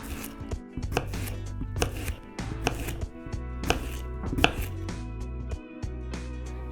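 Fresh coriander leaves are chopped with a knife on a board in quick, irregular bursts of crisp, close taps, loud and steady, with no speech.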